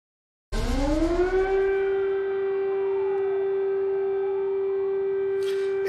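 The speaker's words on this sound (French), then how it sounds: "Et ce que l'on entend, Thibaut, ce sont les sirènes d'avertissement anti-bombardement qui résonnent ce matin en Ukraine." Air raid warning siren sounding in Ukraine, starting abruptly, rising to a loud sustained wail that holds a steady tone with wavering overtones, alone without speech.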